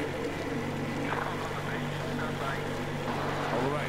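A boat engine in Metro Exodus drones steadily at low volume, a constant rumbling hum under faint background noise with no breaks.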